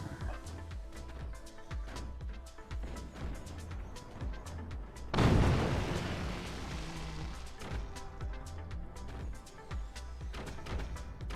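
Nuclear weapon blast in the strategy game Forts: a sudden deep boom halfway through that swells and rumbles off slowly, set amid a busy bed of repeated small clicks and impacts.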